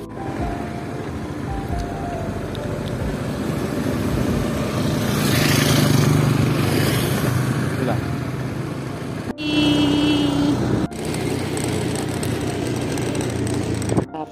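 Motorcycle ride carrying a passenger home, with a steady engine drone and road rumble throughout, loud and close, with a brief tonal whine partway through.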